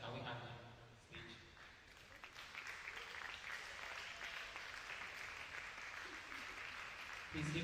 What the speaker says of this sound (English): Please keep clapping once we get here.